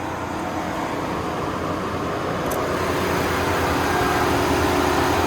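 A 2025 Ford Ranger's 2.3-liter turbo four-cylinder engine running at high idle, a steady close rumble with a constant drone that builds slightly toward the end.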